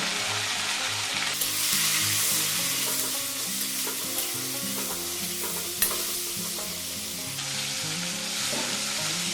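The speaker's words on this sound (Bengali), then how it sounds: "এবার এই তেলের মধ্যে আমি ফুলকপিগুলো একটু ভেজে নেব" Cauliflower florets frying in oil with turmeric and salt, a loud continuous sizzle with bursts of spatula stirring and scraping against the pan, no voices.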